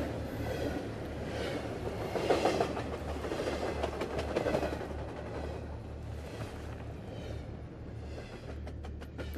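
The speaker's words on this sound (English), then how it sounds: "I still think a train drops off a passenger." A train in the video game Into the Radius rolls past with a continuous rumbling, clattering wheel noise that swells and fades over several seconds, with no talking heard.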